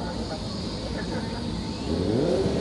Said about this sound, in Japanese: あエンジンかかりましたねはいややっとかかりました